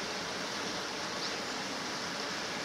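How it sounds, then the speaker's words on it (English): The River Mimram, also called the Lee, runs low beside a woodland walking path, giving a steady, close hiss of flowing water with no voices. "Next to the river, Mimram, or Lee, as it's more commonly known as,"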